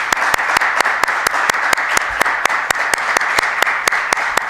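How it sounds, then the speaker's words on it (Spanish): An audience at a Spanish talk on succeeding professionally at a young age claps in a steady, even rhythm, sharp beats repeating about four times a second, fairly loud and without talk. "Yo creo que se merece un fuerte aplauso"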